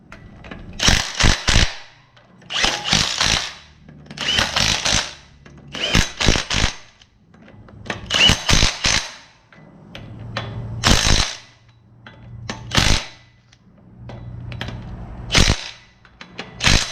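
An impact gun rattles in repeated short bursts, torquing down bolts while a big-block 454 engine and NV4500 transmission go into a 1974 C30 dually squarebody; loud, close, with brief pauses between hits.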